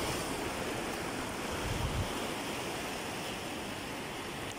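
Waves roll in on the sea in a dim evening setting, a continuous dense roar of surf mixed with wind buffeting the microphone, one swell rising briefly, with no talking.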